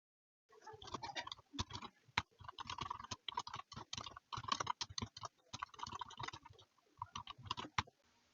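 Keys clatter on a computer keyboard while VBA code is entered, a close, dry run of quick clicks in bursts with brief pauses between words and lines.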